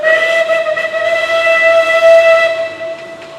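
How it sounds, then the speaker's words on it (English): A steady, sustained steam whistle from a narrow gauge train at Timbertown, Wauchope, New South Wales, sounds loud and close, holding one tone for a few seconds before fading slightly. "a narrow gauge railway that has operated here for decades"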